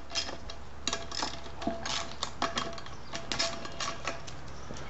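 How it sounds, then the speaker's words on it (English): A 5/16 or 8mm socket ratchet loosens the bolts on a Nelson Rain Train 1865 lawn sprinkler, a rapid, close clicking in short uneven bursts over a quiet background. "You got to take these 5 bolts loose."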